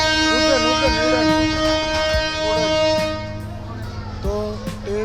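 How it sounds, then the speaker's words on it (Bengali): A train with engine trouble pulls away from the airport station toward Kamalapur; a sustained tonal whine or horn sounds over rumbling, with sharp clanks and people talking nearby. "এখন এয়ারপোর্টের থেকে ট্রেন ছেড়ে দিয়েছে।"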